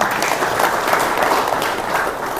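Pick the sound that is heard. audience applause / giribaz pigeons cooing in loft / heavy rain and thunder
audience applause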